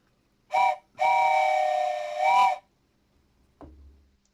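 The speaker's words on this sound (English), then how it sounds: "It's going to have to be a virtual train whistle" A virtual train whistle sound effect gives two clear, steamy blasts, a short one followed by a long sustained one, then a soft click, with no talking.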